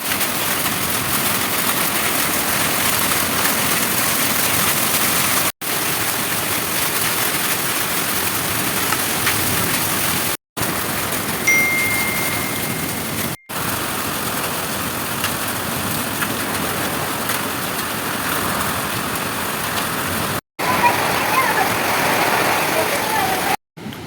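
Rushing streams swollen by a heavy rainstorm in Kashmir, a steady broadband roar of fast-flowing water that fills the scene, broken by a few brief cuts, with a slight shift in texture near the end.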